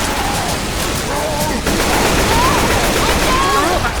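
Rapid gunfire from the video game Left 4 Dead 2, dense and continuous across the clip, mixed with game sound effects and some voice-like sounds.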